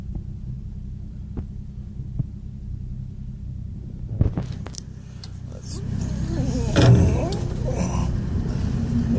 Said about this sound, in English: So you can hear transmission works just fine.